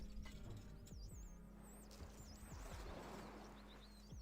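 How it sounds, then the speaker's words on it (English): Horse archers' hooves thud in a repeating clip-clop rhythm during a multiplayer strategy video game battle, moderately loud over a steady low game rumble, with faint bird-like chirps above. "Horse archers coming out."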